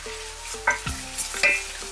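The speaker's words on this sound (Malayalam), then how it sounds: "ഡ്രൈ റോസ്റ്റ് തന്നെയാണ് ചെയ്യുന്നത്." Curry leaves and grated coconut dry-roasted in a pan for Chettinad chicken curry, with close, irregular scraping stirs and light clinks of a spoon against the pan.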